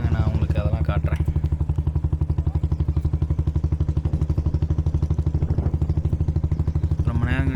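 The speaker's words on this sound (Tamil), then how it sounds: "ரொம்ப நேரம் கழிச்சு இங்கே ஒரு வண்டி போகுது." A motorcycle or small vehicle passes along a hill road near Barkur in the Anthiyur area. A close, steady engine throb and rapid pulsing exhaust beat run throughout, with someone talking over it.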